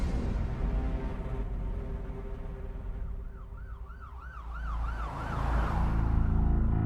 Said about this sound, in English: Nice police, Philippe Frisson, pulled up to the hospital with the sirens on